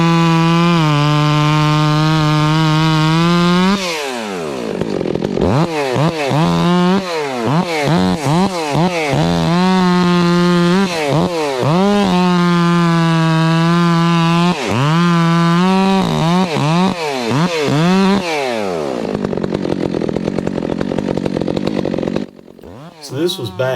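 A Stihl-style 362 chainsaw with a 20-inch bar and 33 RS chain is cutting trees in a confined area. It roars loud and close, revving high, dropping and climbing through repeated cuts.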